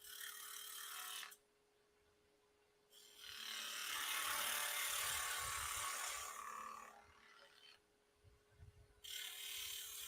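A wood lathe spins a bottle stopper blank near 2,100 rpm. A spindle gouge cuts it in two sustained, fairly loud scraping bursts, separated by quieter gaps where the lathe only hums, and a third cut begins at the end.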